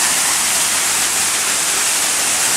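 Water from a dead-end city water line being drained on a cul-de-sac rushes out in a loud, steady, hissing roar, close and continuous with no voices.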